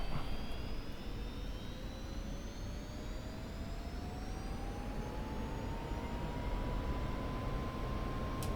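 An F-86 Sabre jet engine spools up in the DCS flight simulator: a steady, loud, close roar of rushing air with a thin whine that climbs slowly in pitch throughout, no voices.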